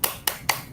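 A group claps in unison for encouragement, three crisp sharp claps evenly spaced, fairly quiet and close, with no talking.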